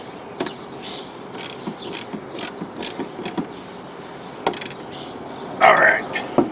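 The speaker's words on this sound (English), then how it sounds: "So let me tighten this blade on." A hand ratchet tightens the blade bolt on a Husqvarna HU800AWDH lawn mower, giving a series of sharp, evenly spaced clicks close up, followed by a brief louder metallic scrape.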